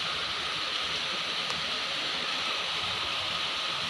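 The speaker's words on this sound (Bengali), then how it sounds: "অনেক বৃষ্টি হচ্ছে" Heavy rain pours steadily onto a village courtyard where water has pooled, giving a dense, even hiss that stays constant and close with no voices.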